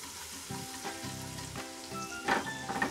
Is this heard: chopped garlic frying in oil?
yes